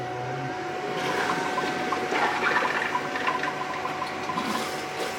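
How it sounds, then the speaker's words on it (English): Water mixed with antifreeze flowing through the cooling system of an xTool P2 laser engraver, a steady close gurgling, rushing flow with a faint pump hum, continuous throughout at moderate loudness. "So here Kenny mixed some water and antifreeze and ran it through."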